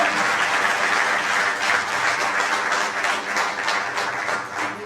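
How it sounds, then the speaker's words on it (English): An audience at an agricultural research council visit gives a loud, sustained round of applause for a visiting executive secretary, with the close, dense clapping holding steady throughout. "Please, a round of applause."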